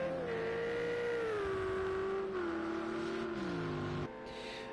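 Ferrari 488 GT3 race car engine at Bathurst in a racing game, a loud, steady roar that drops in pitch through several downshifts and deceleration, heard close with no talking.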